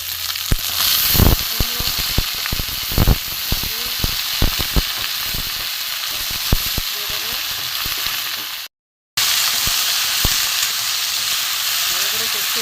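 Malabar spinach and hilsa fish head sautéing in a pan, a steady loud sizzle broken by sharp scraping stirs and clanks, with a brief dropout near the end before the frying resumes.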